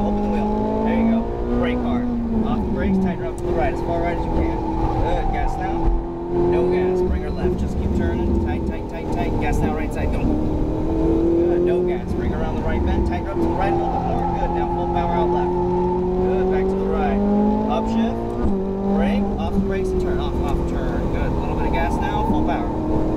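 Ferrari 458 V8 engine accelerating hard on a Las Vegas race track, a loud sustained high-revving roar with rising pitch sweeps and gear-change dips, heard close from inside the car under an instructor's coaching voice.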